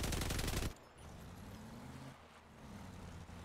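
A rapid-fire machine gun in the vehicle combat game Crossout: a dense, loud burst of continuous fire that cuts off abruptly, leaving a low engine drone and mechanical hum underneath.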